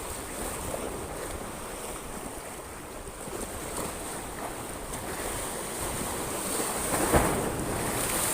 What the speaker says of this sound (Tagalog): Grabe, pumputok yung alon.